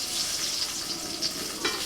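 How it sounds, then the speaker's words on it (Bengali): Tempering of black cumin, coriander leaves, green chilli and ground garlic dropped into oil left from frying eggplant, a dense close sizzle with faint stirring scrapes throughout the short burst. "ওই বেগুন ভাজা তেলের মধ্যে আমি ফোড়নে দিচ্ছি কালো জিরে ধনে পাতা কাঁচা লঙ্কা আর রসুন একসাথে বাঁটা আছে"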